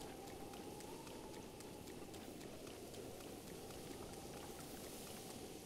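Steady rain falls in the video game Zelda Breath of the Wild. It is a constant, even hiss of drops that stays faint and unbroken throughout, with no voices.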